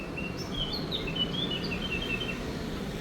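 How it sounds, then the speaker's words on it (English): Thin, high chirps and tweets from several birds flutter over a steady outdoor hiss in summer in Nice, France, fairly faint and at a distance, with no talking. "Listen to those birds."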